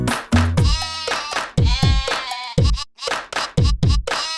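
A black sheep bleating in a children's nursery-rhyme cartoon: a series of about eight loud, close, wavering bleats, each short and separated by brief pauses.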